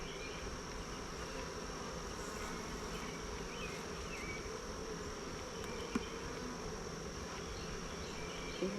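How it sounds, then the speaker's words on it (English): Bees buzz steadily around an open hive on a homestead, a dense continuous drone of many insects close by with no talk over it. "You can just let it drop because there's bees on there and we want the bees to come back."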